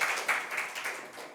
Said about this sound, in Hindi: एक बार तालियां ज़रूर बजाइए।